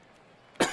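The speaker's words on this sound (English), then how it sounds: "the cough is being a little fierce at the moment" A game commentator coughs once, sharply and close, after a moment of near-quiet, with no words spoken.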